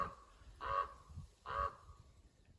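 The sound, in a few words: crow calling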